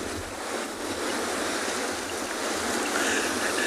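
Ocean surf rushes and washes steadily at a penguin beach, a continuous broad roar of waves with no voices.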